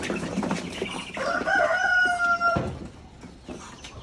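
A rooster crows loudly nearby among a flock of chickens in a yard, one long rising crow standing out over scattered clucking and rustling, with faint outdoor background noise.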